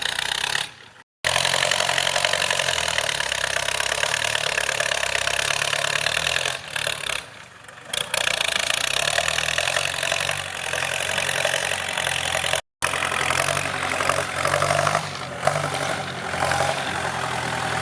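A Yanmar EF494T 49-horsepower tractor engine with a straight exhaust, no muffler, runs loud and steady while pushing a dirt pile, a rough continuous rumble close by, with a couple of brief dropouts.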